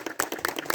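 A brief patter of hand clapping at a São João celebration, a few quick, uneven claps heard up close and fairly soft.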